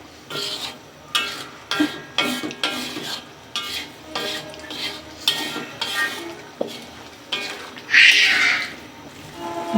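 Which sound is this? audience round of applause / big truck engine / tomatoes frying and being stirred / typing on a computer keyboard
tomatoes frying and being stirred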